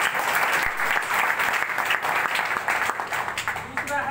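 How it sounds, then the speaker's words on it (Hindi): Dense, steady audience applause fills a room during a product-plan presentation, loud and continuous for about four seconds with a rough crackle of many hands and no pause. "तालियां तो बनती है सर।"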